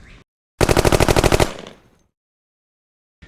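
Rapid string of about a dozen rifle shots from a Bergara B14R fired at 200 yards in a speed run at a steel target, loud and close, with a brief echo trailing off after the burst.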